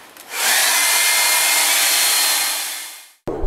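A hair dryer blows steadily on a not-quite-dry painting, switching on with a rising whoosh, holding a loud even hiss for about three seconds, then winding down, with a brief knock at the end.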